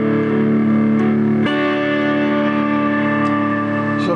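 An electric guitar plays through a distortion effect blended in parallel with the clean signal, giving sustained fuzzy chords with a couple of sharp pick attacks, loud and steady, with no voice.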